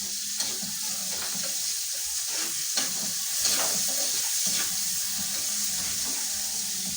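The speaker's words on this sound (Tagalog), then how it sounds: "Lutuin natin ang kaunti ang kamatis." Tomatoes cooking in a pan with garlic, a sautéed base, give a steady sizzle and frying hiss with occasional stirring scrapes and clinks, close and continuous, no talk.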